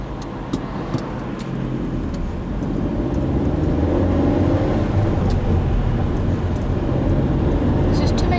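A car pulls away and drives through a city centre during a driving lesson. A steady engine and road rumble builds as it gathers speed, heard from inside the cabin, with occasional clicks.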